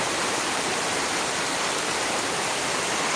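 Steady, dense midday rain pours without a break, a loud broadband hiss with no distinct drops or voices standing out.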